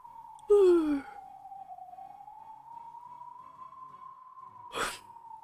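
A single drawn-out vocal exhale with a falling pitch, like a tired yawn, close up, followed by a steady tone and a brief breathy noise.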